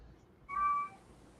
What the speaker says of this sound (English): stupid cat. Can you hear him?